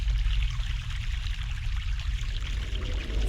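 A stream of fresh mountain water in the video game The Longest Journey, pouring and gurgling steadily at moderate volume with no voices.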